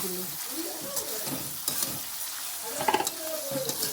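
Food being stirred in a cooking pot at an outdoor picnic, with a continuous sizzle and irregular scrapes and clinks, close by, and faint voices in the background.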